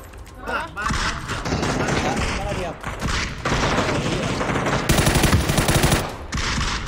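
Sustained automatic gunfire in the video game PUBG hammers away in long, loud bursts with short gaps, close and dense, while players talk over it.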